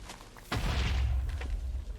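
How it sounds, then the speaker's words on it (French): A deep boom from an explosion in Minecraft hits sharply after a brief pause, followed by a rumbling low tail and a faint secondary thump. "J'entends plein d'explosions."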